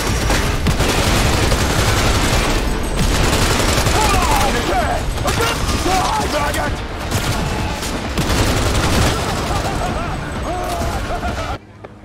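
Heavy, sustained gunfire from a firefight in Cyberpunk 2077, dense overlapping bursts close and loud for most of the stretch before cutting off abruptly near the end, with shouting voices mixed in.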